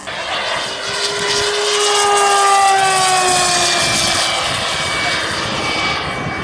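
A Blériot XI vintage monoplane passes at an air show, its engine a loud, steady drone with a falling pitch as it goes by, close and continuous without any voices.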